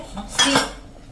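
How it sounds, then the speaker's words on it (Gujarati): A pressure cooker lid is fitted and closed after the whistle and ring are set, making a brief metallic clatter and clink close by, with quiet surroundings and no talking. "સીટી અને રીંગ ચડાવીને આ રીતે આપણે એની લીડ બંધ કરી દઈશું"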